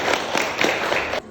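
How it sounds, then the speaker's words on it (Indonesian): Clapping for Nisa in a girls' class, a lively burst of many hands applauding together, close and loud, cutting off abruptly near the end. "Tepuk tangan untuk Nisa."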